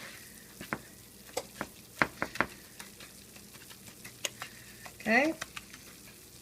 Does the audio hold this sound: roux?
yes